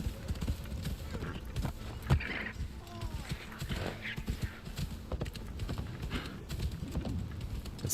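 Horse hooves clip-clop in a steady rhythm in Assassin's Creed Shadows, with a whinny partway through and a voice talking intermittently over it.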